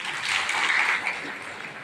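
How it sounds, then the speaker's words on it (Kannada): A short burst of applause from an audience at a public gathering about village drinking water in Raichur, a dense patter of many hands that swells and then thins out within about two seconds. "ಚಪ್ಪಾಳೆ ತಟ್ಟಬೇಕು."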